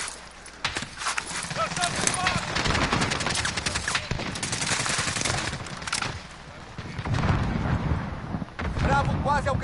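Rapid gunfire crackles through a Call of Duty Warzone match in bursts with dense bangs, heard over and between excited voices talking throughout.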